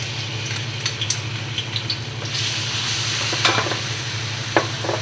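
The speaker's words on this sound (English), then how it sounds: "So just warming up the oil. Okay, and then we're gonna add our blended onions" Blended onions hit hot oil with a steady close sizzle and frying hiss, while a spoon stirs and scrapes the pan in scattered clicks; no one speaks.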